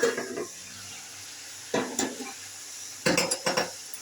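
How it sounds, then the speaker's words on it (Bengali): A lid comes off a cooking pot in a home kitchen with a few clattering metallic clinks. There are three short bursts of knocks and scrapes, close and fairly loud, with quiet gaps between them and no talking. "ঢাকনাটা এবার খুলছি।"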